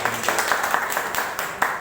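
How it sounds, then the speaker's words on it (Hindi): Audience at a ModiCare family Independence Day gathering breaking into applause, a dense, steady wash of many hands clapping at close range with scattered louder claps. "तो ये जोरदार तालियां।"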